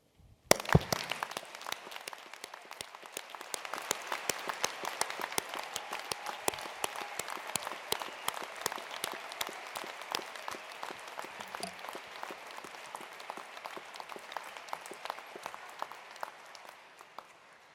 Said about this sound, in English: join with me in applauding this wonderful collection of students in front of us in this magnificent hall.